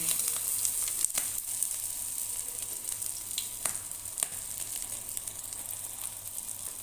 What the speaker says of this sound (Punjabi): ਤੇਲ ਆਪਣਾ ਗਰਮ ਹੋ ਗਿਆ ਹੁਣ ਇਸ ਤੇ ਆਪਾਂ ਟਿੱਕੀ ਫਰਾਈ ਕਰਾਂਗੇ